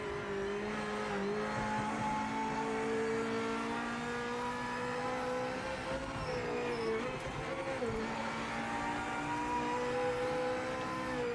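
Race car in the Project Motor Racing video game, its engine droning steadily in the mid-range with pitch shifts as it revs, plus intermittent tyre squeal, fairly quiet and continuous throughout.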